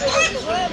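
Ducks and geese, local, Chinese and swan geese, honk and quack at the crowded Fatullah duck market, a few loud nasal calls up close over a murmur of people talking.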